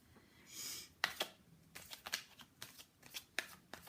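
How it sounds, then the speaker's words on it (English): Tarot cards are shuffled close and quietly, a riffle followed by a run of crisp slaps and flicks in uneven bursts, with no talking. "I want to pull some tarot cards over this."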